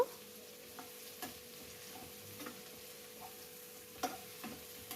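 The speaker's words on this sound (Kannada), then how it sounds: "ಈರುಳ್ಳಿ ಇದು ಎಲ್ಲ ಚೆನ್ನಾಗಿ ಎಣ್ಣೆ ಚೆನ್ನಾಗಿ ಫ್ರೈ ಮಾಡಬೇಕು." Onion and bitter gourd fry in oil, a steady soft sizzle running throughout with occasional light ticks and clinks of stirring in a pan, fairly close and quiet, with no talking.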